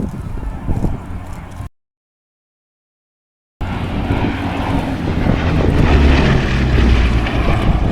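A restored, airworthy Bristol Blenheim bomber runs its piston engines in a loud, rough, broadband roar that swells and grows heavier, briefly cut by a stretch of total silence.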